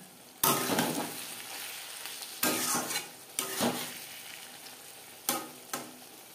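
Fish oil and eggplant chachchari stirred in a frying pan, a low sizzle broken by several sharp spatula knocks and scrapes against the pan at irregular intervals, close and without talk.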